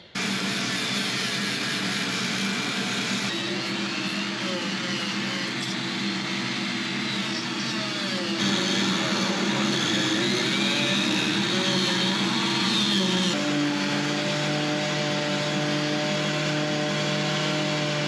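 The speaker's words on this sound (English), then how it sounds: "I used my Dremel a few different ways to get that sanded, and then I was able to get the dual action sander in there" A Dremel and a dual action sander grind down boat fiberglass, giving a loud, continuous motor whine and whir with shifting tones as tool pressure and speed change throughout.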